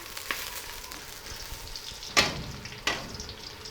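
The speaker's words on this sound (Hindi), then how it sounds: "इसमें हम शामिल करेंगे 1 अदद कटी हुई प्याज। प्याज़ों को हमने ब्राउन कर लेना है।" Sliced onion browning in hot oil in a karahi, a steady broadband sizzle and crackle with a couple of louder sputtering bursts, close and continuous with no talking.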